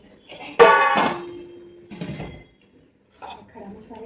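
A steel plate (taat) clatters down among dishes in a home kitchen during Kolhapuri masala preparation, one loud clinking set down followed by a few softer knocks and clinks, close and clear with brief pauses.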